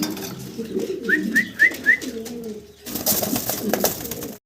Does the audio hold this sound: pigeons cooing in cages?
yes